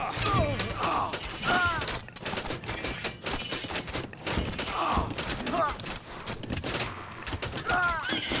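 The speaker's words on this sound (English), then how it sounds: "I'm just taking in the sounds of the arrows." Volleys of arrows whoosh and clatter in bursts, with metallic clanks and mechanical rattles layered over a busy, continuous battle din, from Mythic Age units in Age of Mythology Retold.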